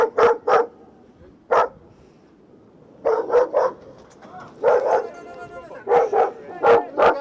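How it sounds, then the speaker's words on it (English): A large dog in an Afghan village compound barks in sharp, loud bursts, pairs and clusters of woofs separated by short pauses, close and clear with no talk over them. "when they encounter a large dog"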